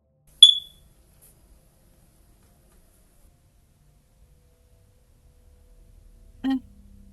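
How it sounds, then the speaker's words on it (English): A low-battery alarm in a video game gives one sharp, high chirp, then a long stretch of silence before a brief, lower electronic tone near the end. "The low battery alarm."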